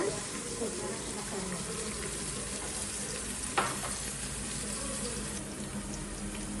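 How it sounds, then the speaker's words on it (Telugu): Onions and curry leaves fry in a pan for a Telugu vegetable dappalam stew, giving a steady, even sizzle throughout with one sharp clink partway through. "ఇందులో కొద్దిగా కరివేపాకు కూడా వేసి వేగనివ్వాలంటండి"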